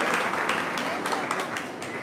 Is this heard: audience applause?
yes